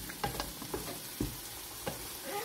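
Chicken breast and broccoli sautéing in a pan, a steady soft sizzle broken by several scraping stirs of a utensil, close and moderately quiet with no talking.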